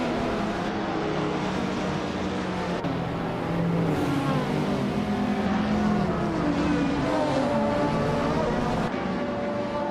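Racing cars launch off the start line in a video game, among them a 1996 Fiat Coupe Turbo, engines droning and revving together in a steady, layered roar with rising pitch sweeps.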